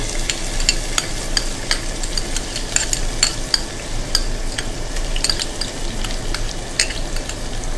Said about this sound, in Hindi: अब इसमें मैं ये चॉप किया हुआ ऑनियन डाल देता हूँ।